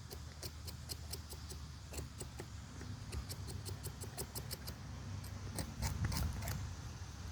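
A hand saw's square-edged spine scraping thin shavings off resinous fatwood, outdoors, giving a run of quick, faint, regular scratchy strokes close up with no voice over them.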